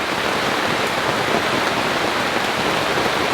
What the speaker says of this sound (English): The rain is just seriously holding everything up.